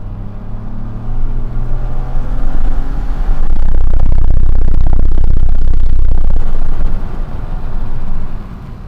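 A 2021 Ford Fiesta ST Mk8 in sport mode, its engine a loud, deep rumble that swells into a heavy, roaring pull for several seconds before easing off, heard from inside the car.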